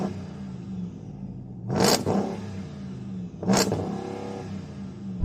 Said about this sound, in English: I've got a soft limiter, which is a bit of an arse, but the speed that this big V8 spins up is quite impressive.